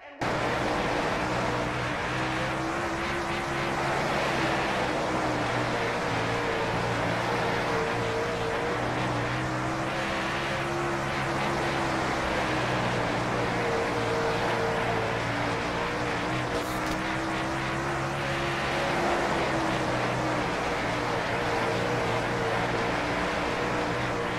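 Dirt late model race car lapping Knoxville in World of Outlaws Dirt Racing, a steady loud engine drone with rising and falling revs through the corners, continuous for the whole stretch with no talk.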